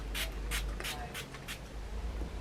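Makeup setting spray misted from a bottle, five short, evenly spaced hissing bursts close to the microphone over a low steady background hum.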